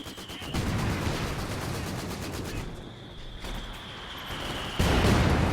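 Gunfire and indirect artillery fire in the strategy video game Company of Heroes 2, a dense stream of rapid shots and blasts with a heavier boom near the end, no talking.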